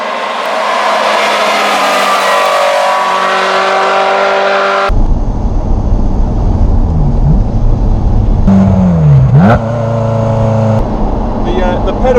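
A rare Ferrari 348 GT Competizione engine drones loudly from inside the car while driving, dropping to a lower cabin tone midway with a rising and falling rev swing near the end.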